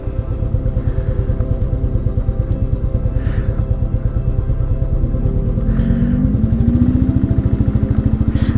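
A green car's engine revs and accelerates close by in France, a steady pulsing drone that rises in pitch toward the end, with a motorcycle-like throb throughout.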